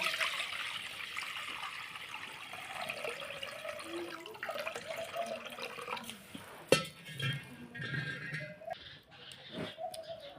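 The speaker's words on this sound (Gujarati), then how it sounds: "આ તપેલીમાં છે ને આ ડાંભાના કટકા બાફવા મૂકવા એટલે આ પાણી નાખી દઈએ" Water is poured into a cooking pot before it goes on a stove to boil cut pieces for a village farm-style vegetable dish, a steady quiet stream that turns into sharper splashes and clatter toward the end.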